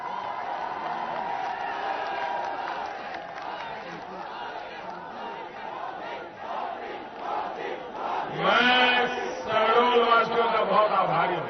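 A large crowd at an outdoor political rally in Shahdol, Madhya Pradesh, murmurs and calls out at first, then swells into loud, massed cheering and chanting near the end.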